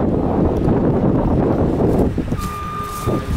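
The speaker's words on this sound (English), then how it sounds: "There's a lot of wind around." Strong wind buffets the microphone outdoors in a parking area, a steady broadband roar that eases slightly after a couple of seconds as a faint high tone and passing traffic appear.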